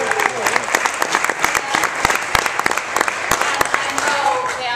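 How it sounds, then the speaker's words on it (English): An audience applauds a volunteer at an annual celebration dinner honouring exceptional volunteers, with close, sharp individual claps standing out over a dense crowd of clapping that stays loud throughout. "Let's give her a round of applause."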